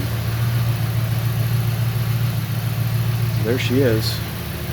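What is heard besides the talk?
rear-mounted turbo Audi RS4 engine running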